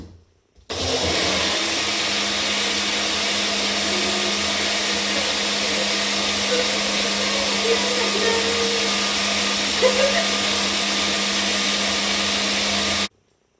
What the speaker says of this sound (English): While you're waiting for your smoothie to blend